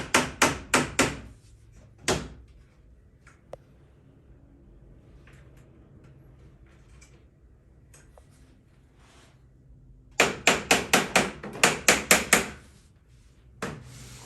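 Hammer taps on plastic shoe rack parts during assembly: two quick bursts of four to six sharp, close knocks each at the start and end, plus a lone tap in between, with quiet room noise elsewhere.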